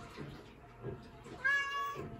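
A cat in a basement gives a few soft, short meows followed by a louder, drawn-out tonal meow near the end, fairly close and quiet.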